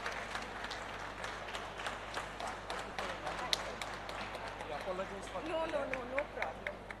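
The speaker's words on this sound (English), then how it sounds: "A round of applause for her time and generosity." Audience at a food festival felicitation giving a round of applause, a steady wash of scattered clapping with a few sharper claps, while a voice talks quietly over it.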